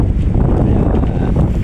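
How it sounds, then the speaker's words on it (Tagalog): Wind buffets a microphone outdoors in a continuous, rumbling rush that lasts under two seconds. "medyo may hangin"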